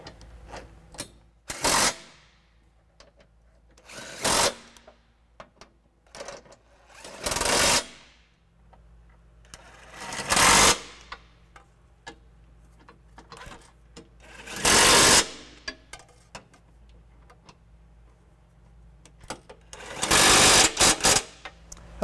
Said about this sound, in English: I'm gonna go ahead and take our impact again in a 19 millimeter socket this time and just